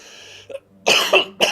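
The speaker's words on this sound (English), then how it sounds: "I've still got a little lingering after effect of that cough." A lingering cough left over from an illness: a quiet throat sound comes first, then two harsh, close coughing bursts with a short gap between them.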